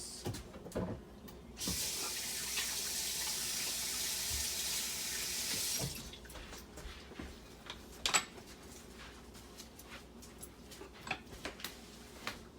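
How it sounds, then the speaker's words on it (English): A kitchen tap runs steadily for about four seconds as a hand is washed beneath it, followed by faint clicks and small handling knocks in a quiet room. "I'm gonna wash my hand."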